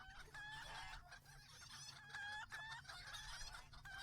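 Chickens in the Lord of the Rings Online video game clucking busily and steadily for about four seconds, with repeated short calls and a rooster-like crow at a moderate level over low background ambience.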